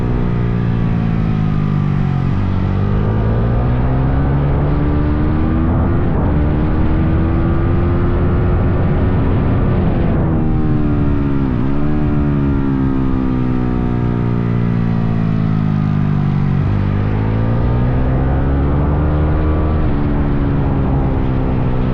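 A Honda CRF 450 supermoto races around a track in Spain, its single-cylinder engine howling loud and close, revs climbing in long sweeps and dropping sharply at each gear change over about twenty seconds, no voices.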